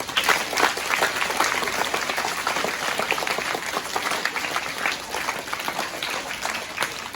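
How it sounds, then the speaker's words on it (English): Warm, sustained audience applause at a school presentation day in honour of a retiring teacher, dense clapping that stays even throughout with no speech over it. "So please join me in giving her a huge round of applause"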